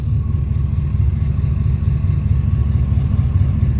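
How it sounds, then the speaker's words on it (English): A car engine idles steadily and close by, a low smooth rumble carrying a faint, slight lifter tick and a somewhat lumpy exhaust note, with no talking. "on this side, you can just hear a little lifter tick"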